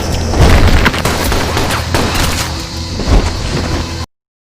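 Gunfire and heavy booming impacts in a kidnapping film scene as kidnappers are shot dead, several loud blasts ringing over a dense, continuous action soundtrack.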